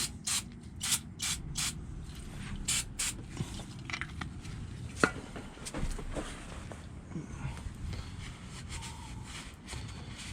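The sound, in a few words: spraying brake cleaner on fuel filter housing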